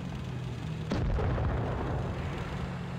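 A single heavy cannon shot from an AMX 13 90 tank's autoloader in World of Tanks Blitz: one sharp, loud blast followed by a rumbling tail over a steady low game hum.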